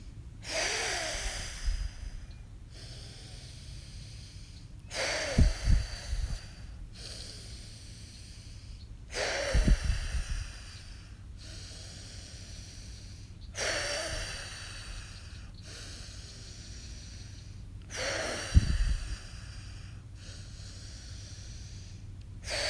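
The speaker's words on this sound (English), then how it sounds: "Deep inhale in." Slow, deep breathing exercise: long hissing inhales and exhales repeat in a steady cycle roughly every four to five seconds, close and clear, with faint low thumps between breaths.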